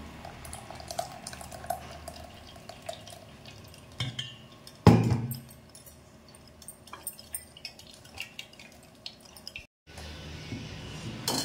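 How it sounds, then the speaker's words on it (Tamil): Ground carrot liquid strained through a kitchen strainer, with soft dripping and trickling, light clinks of the bowl and one sharper knock partway through, close and fairly quiet. "இதை அப்படியே இந்த மாதிரி ஒரு வடிகட்டி பயன்படுத்தி இதை அப்படியே வடிச்சிக்கலாம்"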